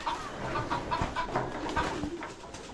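Desi hens in a coop give a series of short clucks and calls, loud and close, overlapping with pigeon-like coos in a busy poultry house.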